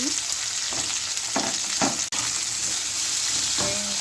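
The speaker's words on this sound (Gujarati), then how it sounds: "હવે આપણે ભીંડાને નાખી દઈશું" Chopped okra (bhindi) frying in hot oil on medium gas, a continuous sizzle broken by several sharp stirring scrapes and clatters in a pan, close and fairly loud.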